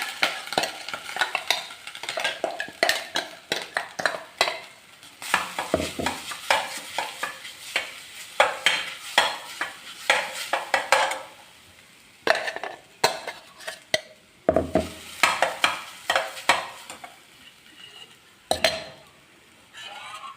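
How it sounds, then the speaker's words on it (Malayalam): Ground coconut stirred and fried in a pan of hot coconut oil with spluttered mustard seeds, a spoon scraping in rapid rhythmic bursts over a soft sizzle, close and clear with brief pauses. "നമ്മൾ അരച്ച് വെച്ചിരിക്കുന്ന തേങ്ങാപ്പൂട്ട് ചേർത്ത് കൊടുക്കാം"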